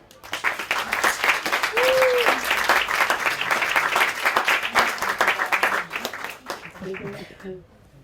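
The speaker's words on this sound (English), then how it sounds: "Really warm round of applause, please, for Danica Apolline." An audience applauds as a speaker is welcomed to the stage for an evening talk, dense sustained clapping that swells and then thins out near the end, with a brief voice-like tone and murmurs mixed in.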